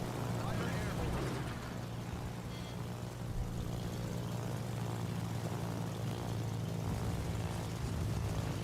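A propeller-driven fighter launched from a carrier in World of Warships drones with a steady low engine hum, faint and continuous beneath game sounds, with talk present.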